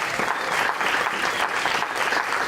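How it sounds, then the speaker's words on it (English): A crowd at a Kane County coroner candidates' forum gives a loud, sustained round of applause, the clapping thick and even from start to finish. "let's give a round of applause for the candidates"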